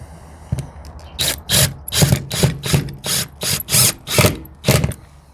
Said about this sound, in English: some simple wood screws. And they give you a screwdriver, but I mean, why not use a driver, right?